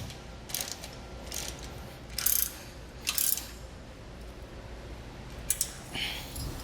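Ratchet tightening bolts on a tongue-mounted crossbar bracket for a Malone MicroSport trailer: several short bursts of quick clicking, close and crisp, separated by pauses over a quiet background.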